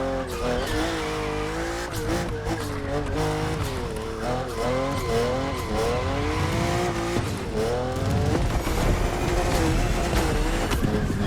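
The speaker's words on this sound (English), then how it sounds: "It feels absolutely sick drifting with this monster." A 1000-horsepower BMW M4 drift car slides continuously in The Crew Motorfest racing game, its loud engine revving and shifting in wavering pitch over sustained tire squeal, close and unbroken throughout.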